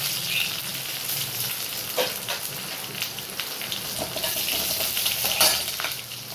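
Mustard seeds, cumin, chopped garlic and dried red chillies sizzle and crackle in hot oil for a sirukeerai paruppu kadaiyal, a fairly quiet, continuous frying hiss with scattered pops and faint stirring.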